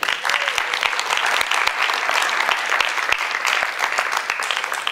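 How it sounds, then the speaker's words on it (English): Conference keynote audience applauding a presenter named Steph, steady, loud, dense clapping with a few sharper individual claps standing out, sustained for the whole stretch. "So give Steph a round of applause."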